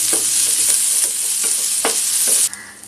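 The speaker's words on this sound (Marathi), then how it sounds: "कांदा चांगला भाजतो मग।" Chopped onion fries in a little oil in a pan, a loud, steady close sizzle with soft scrapes of stirring, cutting off abruptly near the end.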